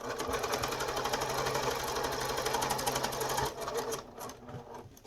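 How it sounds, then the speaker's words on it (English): A sewing machine stitches an aluminium nose-strip fabric mask from top to bottom, a loud, steady rapid mechanical whir with dense needle clatter that runs continuously, then eases and thins out toward the end. "you can see I'm sewing top to bottom"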